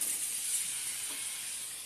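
Leftover bread dough sizzling in a hot pan as it is flipped, a steady bright hiss of frying with a sudden louder flare at the end.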